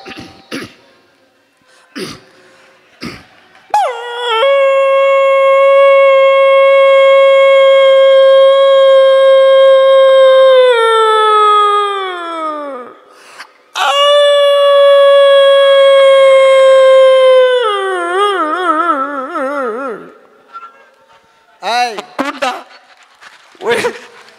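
A voice imitates a dog's howl in two long, sustained wails that slowly slide downward, with coughs and throat-clearing before and after.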